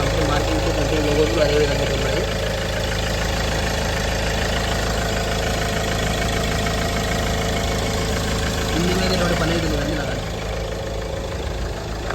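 A 2016 Mahindra XUV W6 engine idles steadily with a low, even rumble throughout, while someone talks over it.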